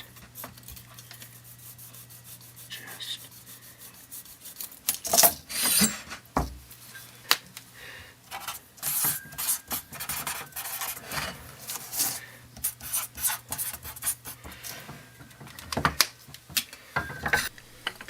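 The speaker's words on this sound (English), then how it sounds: "Can you hear the noise as I move the stanchion in the slider?" A motorcycle front fork stanchion on a Moto Morini 250 2c Paioli suspension being worked back and forth inside a worn slider with play, giving close, irregular scraping, rubbing and knocking sounds over a steady low hum.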